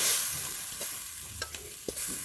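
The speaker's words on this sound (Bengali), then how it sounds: "তলে লেগে পুড়ে যেতে পারে, এই জন্য কিছুক্ষণ নাড়াইতে হবে" Banana blossom curry stirred in a hot pan with a spoon, a steady frying sizzle broken by a few soft scraping strokes, close and alone with no talk.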